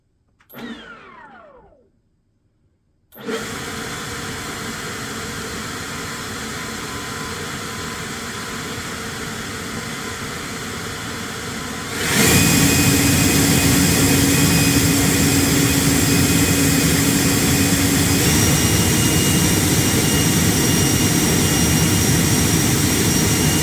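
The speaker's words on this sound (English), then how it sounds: "Such a squealy blower." Two Ego cordless leaf blowers, the LB880 and the LBX1000, run one after another: a steady high-pitched whine starts after a brief spin-up, then a second, louder and more squealing unit takes over and roars continuously at close range.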